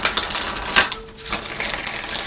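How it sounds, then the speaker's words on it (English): A deck of tarot cards is shuffled up close with a dense, rapid riffle of papery clicks and rustles, broken briefly partway through, with no talking. "There's one more shuffle that needs to get in there."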